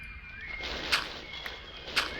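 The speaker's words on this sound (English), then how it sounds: "we just have to put up with the Tweety birds" Faint ambient bird chirps in TerraFirmaCraft, a Minecraft mod, come as a couple of short high tweets against a quiet background hum, with one soft tap in between.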